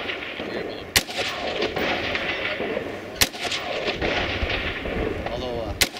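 Three sharp rifle shots crack out a couple of seconds apart at an outdoor practical rifle match stage, with people talking throughout.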